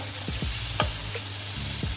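Prawns being stirred and fried in a pan for chingri bhuna: continuous sizzle with several quick scraping strokes of a spatula, close and clear, no voices.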